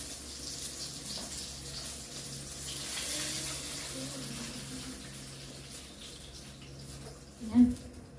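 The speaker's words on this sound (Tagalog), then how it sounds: "lagyan na natin siya ng tubig." Water runs into a cooking pot for fish soup with leeks and onions, a soft steady pour under low kitchen background, ending with a brief louder splash or clink.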